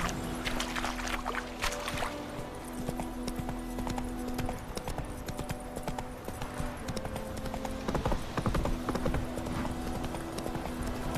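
Horse hooves clip-clop steadily in The Witcher 3, a continuous rhythmic trotting heard up close over game ambience and music, with no talking.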